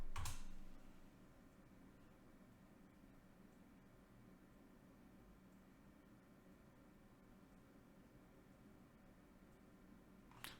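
Faint, steady keyboard typing on a computer during an embedded DOS demo on a WinnerMicro W806 board, quiet and soft over a low constant background hum with a couple of sharper knocks at the start and end.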